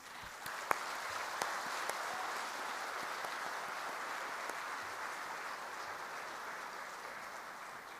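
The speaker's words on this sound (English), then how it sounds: "So a big round of applause for them." A conference hall audience gives a steady round of applause for about eight seconds, a thick even patter of many hands heard at a moderate distance, with a few sharper individual claps standing out.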